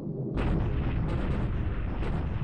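Bombs bursting on artillery positions in the wargame War in the Pacific, a continuous loud rumble of explosions after a brief quiet start, with sharper blasts recurring at intervals.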